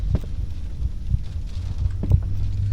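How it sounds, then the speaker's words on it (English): A low, dull heartbeat thumps at irregular intervals within a muffled ambient drone, playing as the sanity effect in an Exit 8 clone horror game. "because there's a heartbeat sound"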